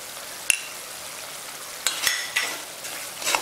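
Beef dry roast in coconut oil sizzles quietly in a pan, a soft steady hiss broken by a few sharp crackles and spoon scrapes against the metal.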